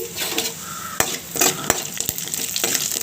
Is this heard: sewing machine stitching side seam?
no